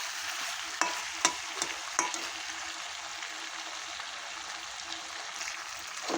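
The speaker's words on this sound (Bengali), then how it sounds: "এখন হলুদ দিয়ে খুব ভালো করে কষিয়ে নিতে হবে।" Spices with turmeric stir-fried in a pan for a chicken curry, a soft continuous sizzle with a few sharp utensil scrapes early on, close but fairly quiet, no talking.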